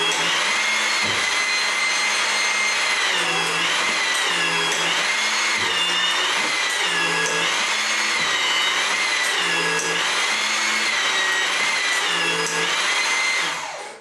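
A HYTORC hydraulic torque tool tightening and breaking out a bolt nut gives a loud, steady mechanical whine and hum with a regular cyclic pulsing, running alone and close for the whole stretch.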